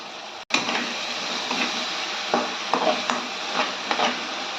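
Onion and tomato paste with turmeric frying in a pan for fish curry, a steady close sizzle broken by repeated scraping stirs of a spoon against the pan, no talking.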